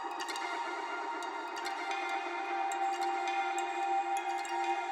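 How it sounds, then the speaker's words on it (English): A modular synth voice modulated by a bipolar LFO drenched in heavy reverb sustains a bright layered drone with shimmering tones and faint clicky accents, steady and continuous throughout, with no voices. "And that's just run through a ton of reverb."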